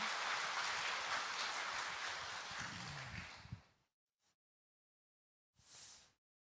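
A church congregation at a Sunday worship service gives a sustained round of applause that fades out after nearly four seconds, followed by silence broken by a couple of short, faint noises.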